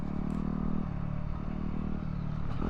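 A WR250R or DR650 dual-sport motorcycle engine drones steadily on a gravel trail while a rock strikes the bike with a brief clatter and scrape partway through, all heard up close.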